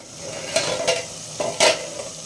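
Tomatoes frying in oil in a covered pan give a soft, steady sizzle, with a few brief stirring scrapes and clinks rising above it.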